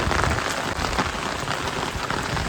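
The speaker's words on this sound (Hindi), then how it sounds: "तो इतनी भयंकर बारिश हो रही ना यहाँ" Heavy rain pours down steadily in a mountain village, a dense, continuous hiss of drops on surfaces heard close and loud without pause.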